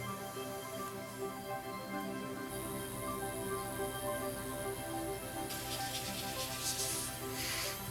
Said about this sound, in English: got my airbrush set up to spray a coat